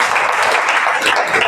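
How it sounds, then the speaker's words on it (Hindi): Students in a class 11 chemistry classroom clap their hands together in a brief, dense burst of applause, close and lively. "ताली बजाइए आपको"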